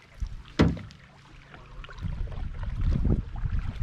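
Paddle strokes pulling a heavy, low-riding canoe through water, a sharp knock of the paddle against the hull followed by swishing and gurgling water, close by and steady.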